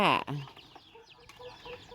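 A hen lets out a loud, close cluck at the outset, followed by a few fainter chirps and rustles.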